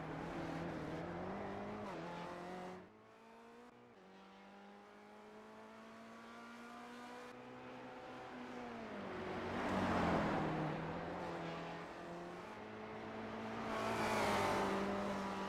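Race car lapping the Detroit Belle Island street circuit in a sim racing game, engine note rising and falling through gear changes and corners, loud and continuous with no talk.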